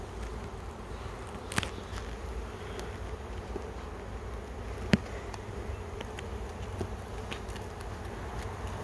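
A steady, low hum of many honeybees buzzing in a National hive during inspection, close and continuous, with a few faint clicks and taps and no voices.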